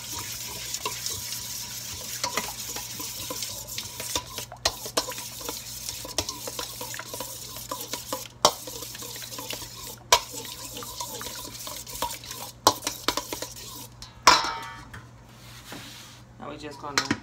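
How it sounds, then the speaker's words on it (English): Meatloaf mixture with mustard and a tablespoon of A1 sauce gets mixed by hand in a bowl, making wet, squelching, irregular squishes that come close and fairly loud, under and between a person talking. "All we're gonna do is just mix this together."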